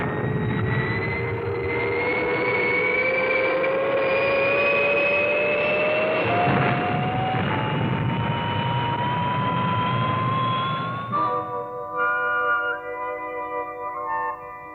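A rescue craft from the 1962 TV series Fireball XL5 takes off with a loud jet roar and a rising whine that climbs steadily in pitch, then gives way to a fainter, wavering tonal hum as it fades.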